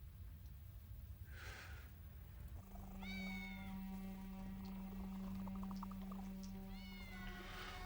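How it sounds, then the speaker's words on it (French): Several cats meow in a film scene, with drawn-out plaintive cries rising over a steady low hum and background noise, one call near the start and more overlapping toward the end. "Qu'est-ce que tous ces chats font ici?"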